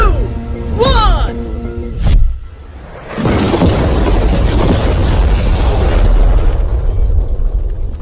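A loud car explosion bursts after a few tones, followed by a long roaring rumble of fire and debris that stays heavy and noisy to the end.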